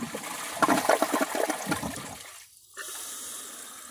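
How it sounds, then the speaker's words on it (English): A 2009 Kohler Wellworth toilet flushes with a loud rushing gush of water that fades out, followed after a short gap by a steady softer refill hiss. "so let's give it a flush"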